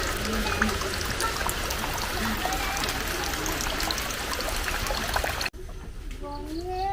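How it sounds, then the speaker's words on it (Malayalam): Steady light rain falling outdoors, a continuous soft broadband patter with trickling runoff that holds evenly for several seconds before cutting off abruptly; brief faint tonal sounds follow in the quieter remainder. "പെയ്ത് വെള്ളം ഇങ്ങനെ ഭൂമിയിലോട്ട് ഇറങ്ങുന്ന കൂട്ട് മഴ നിന്ന് പെയ്യുക"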